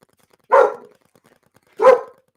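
Dog barking twice, two loud, close single barks about a second and a half apart with silence between them.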